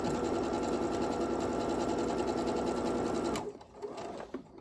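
Sewing machine stitching quilt patches for a four-patch baby quilt, running in a steady, loud, continuous whir for over three seconds, then stopping abruptly and leaving only faint handling noises.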